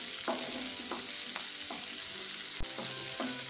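Sweet corn frying in a pan for spicy crispy fried corn chaat, a constant close hiss of sizzling oil broken by repeated scraping stirs of a spoon and one sharp knock.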